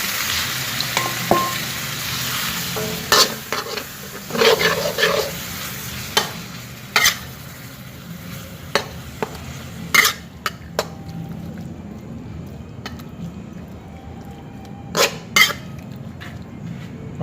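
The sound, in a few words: stir-frying minced meat in a pan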